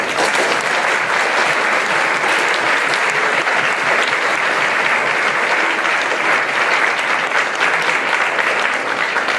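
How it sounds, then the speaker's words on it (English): Sustained audience applause fills a junior leadership graduation ceremony in Medina County, loud and steady throughout with dense overlapping claps and no break. "I think it would be a good idea if we gave this round of people applause."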